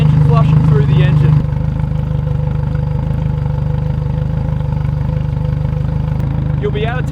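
Outboard boat motor running steadily while being flushed with a salt-flushing mixer, a loud, continuous engine drone with a sharper note at first that settles into an even hum throughout.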